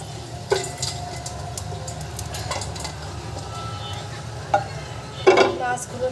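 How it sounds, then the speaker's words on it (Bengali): Chepa dried fish (shutki) frying in a pan, a low steady sizzle with scraping stir strokes and occasional sharp clinks of a utensil against the pan, close by. "মাছগুলো ভেজে নেব"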